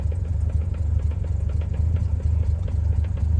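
A 1958 Jaguar XK 150 engine idling after a cold start, a close, loud, steady low rumble with an even pulsing beat and no voices.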